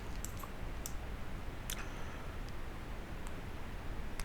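Several faint computer mouse clicks, light and widely spaced, barely rising over a steady background hiss, with no talking.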